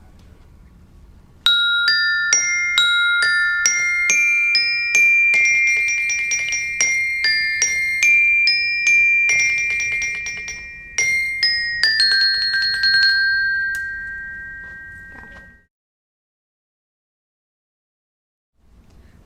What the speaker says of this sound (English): I'm going to play the bells.